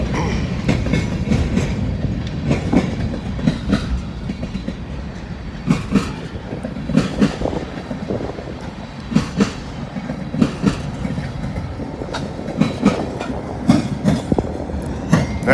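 Freight train led by an EMD GP38-2 locomotive with a caboose rolls past nearby on the old B&O line, steady rumbling wheel noise with rhythmic clickety-clack joint hits throughout, on a cold, windy day.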